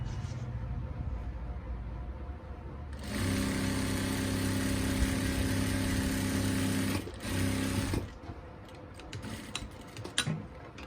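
A sewing machine stitches salwar fabric with a continuous mechanical whir that starts partway in, runs steadily, pauses briefly, then stops, leaving quieter handling clicks and rustles.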